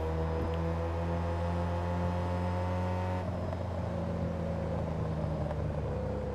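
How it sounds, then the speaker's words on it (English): A car engine on overrun in the racing game Test Drive Unlimited 2, a four-cylinder sound with a loud steady tonal drone that drops in pitch midway as the throttle lifts, close and without talk. "Oh, the overrun actually sounds fantastic in this. This still sounds like a 4-cylinder"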